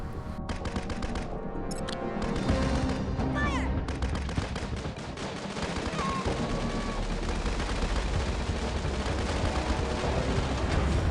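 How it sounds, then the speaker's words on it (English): Troops in the mobile game Tiny Troopers: Alliance firing at an MG tower, rapid continuous gunfire with bursts and impacts layered over each other, loud and unbroken. "If I tap on the MG tower, they will all attack the building together."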